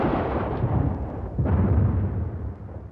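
Artillery barrage pounding enemy trenches on the Western Front in the First World War, heard as continuous deep rumbling booms that swell and pulse loudly for the full length with no talk.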